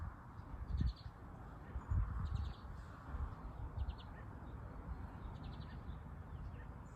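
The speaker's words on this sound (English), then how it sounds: "Listening to the birds serenade us with their songs." Birds call outdoors on a sunny morning, several short chirps and caws scattered at a moderate distance over a steady soft background hiss, with no other sound standing out.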